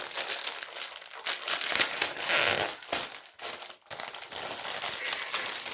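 Continuous crinkling and crushing of plastic packaging, close and fairly loud, with irregular rustles and brief pauses.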